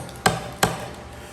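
Two sharp, light taps of a metal drill bit on a wooden guitar neck, spaced about a third of a second apart, close by in a quiet room.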